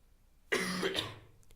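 A single harsh cough bursts out close and loud, followed by a brief throat-clearing rasp, with quiet room tone before and after in an indoor lecture setting.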